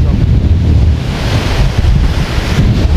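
Strong wind and crashing surf at the shore in Port Royal, Jamaica, a loud continuous roar of gusting wind buffeting the microphone over breaking waves.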